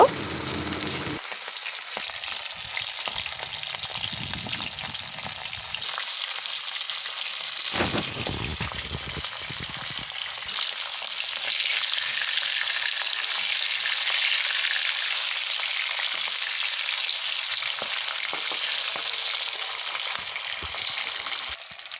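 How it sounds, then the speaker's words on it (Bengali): Hilsa fish pieces fry in hot oil in a wok, a steady, loud, crackling sizzle that carries on without a break for the whole stretch, with faint stirring now and then. "কড়াইতে তেলটা খুব ভালোভাবে গরম হয়ে গেছে এবার ওই মাছগুলো হালকা করে ভেজে নেব"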